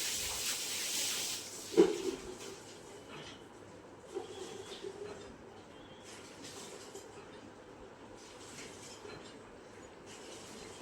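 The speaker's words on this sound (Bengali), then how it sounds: "তো সব কিছু তেলের সঙ্গে খুব ভালো করে ভাজা ভাজা করে নেব।" Onion paste and green chilli paste frying in oil give a soft, steady sizzling hiss, fairly quiet, with a brief clatter early on and occasional small pops.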